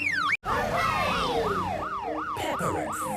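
A police car siren wails loud and close in a rapid, repeating rising-falling pattern after a brief cut, with no talk over it.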